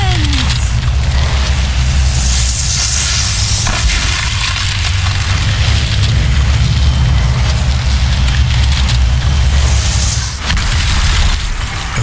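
Deep, rumbling booms roll continuously for several seconds, repeated explosions in the video game Strange Brigade, with a dense low-end roar and occasional bursts on top.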